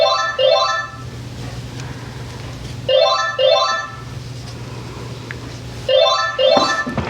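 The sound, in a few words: telephone ringing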